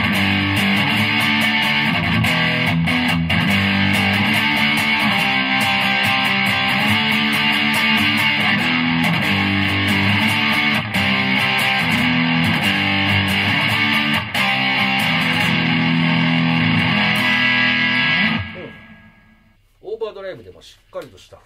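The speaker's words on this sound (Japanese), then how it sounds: "この強いピックアップの段階ではやっぱりね、この歪み系がいいんでしょうね。" A Dean Zelinsky La Voce electric guitar played through a distortion effect on a strong pickup setting, with thick sustained chords ringing loud and dense for most of the passage before cutting off, followed by a brief voice.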